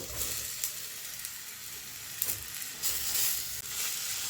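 Marinated small shark (mushi) pieces coated in Malvani masala hit a hot pan, giving a steady bright sizzle and frying hiss that swells slightly a few times.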